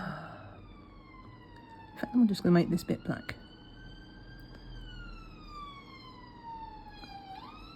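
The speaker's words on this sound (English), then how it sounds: "Oh, it's an ambulance." An ambulance siren sounds while passing along a London through route. It wails loudly in long, smoothly gliding tones that slowly fall and then rise again, over traffic rumble. Someone speaks briefly midway, partly over the siren.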